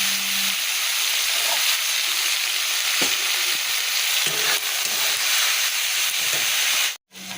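Bitter gourd sizzles steadily in a hot pan, a continuous close hiss with occasional soft knocks of stirring, cutting out briefly just before the end.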